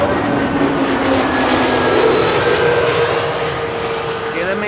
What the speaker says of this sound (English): KLM A321 Neo arriving from Persenchester.